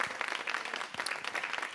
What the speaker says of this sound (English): Let's give Mayor Pratt a round of applause